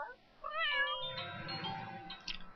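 Cat meowing in the video game The Sims 3, a single drawn-out, wavering meow heard close and alone, followed by a short softer chirp.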